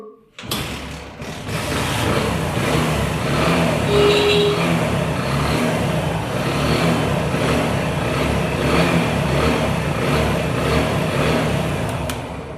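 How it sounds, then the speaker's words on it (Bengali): Bajaj Platina motorcycle engine firing up after a brief crank, then idling smoothly and steadily at close range for over ten seconds with an even, continuous rumble. "দেখেন আপনাদের স্টার্ট করে আমি দেখাচ্ছি সাউন্ডের কন্ডিশনটা কত সুন্দর"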